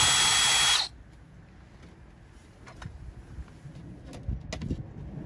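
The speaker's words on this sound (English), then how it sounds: "снутри пару шурупов откручиваем, чтобы этот пластмасс внутри снять" A power drill whirs loudly and close for under a second while backing out screws inside the cab of a Kenworth W900L truck, followed by a quiet interior with faint scattered knocks.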